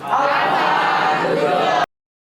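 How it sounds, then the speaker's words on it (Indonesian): A classroom group claps together in applause for a student named Alfa Rizky, a dense, steady burst of many hands lasting under two seconds before stopping abruptly. "tepuk tangan buat Alfa Rizky"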